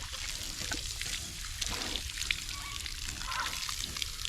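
Water trickling and splashing from a hose onto pigs in a sunny morning pen, giving them a cooling bath; a steady close spray with uneven sloshes, no talking.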